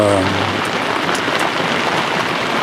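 Steady rain mixed with falling snowflakes hisses across the surroundings outdoors, a dense, even wash close by, with a brief voice at the very start.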